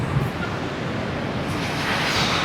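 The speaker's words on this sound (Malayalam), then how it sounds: "ഈ ഒരു ഭാഗത്തൊക്കെ നന്നായിട്ട് വെള്ളം നല്ല ഫോഴ്സിൽ വീഴുന്നുണ്ട്." Rhine Falls in Switzerland, Europe's largest waterfall, crashes with force in a loud, continuous broadband roar heard close up, unbroken and without any voices.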